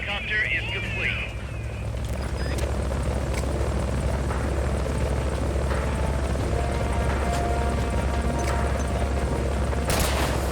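A Fulton recovery helicopter in Metal Gear Solid: Peace Walker drones with a loud, steady rotor thrum, joined by short chirps early on and occasional sharp clicks, while a voice is heard over it.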